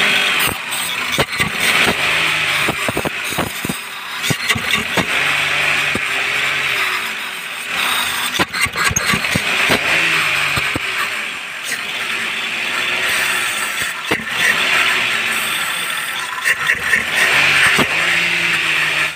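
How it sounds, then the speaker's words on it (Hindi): A Maruti WagonR car engine idles steadily around 1000 rpm after its throttle body was cleaned, a continuous close mechanical hum with light ticking and no talking. "अभी आप देखो आइडलिंग, आप देखो 1000 पे हो रही है।"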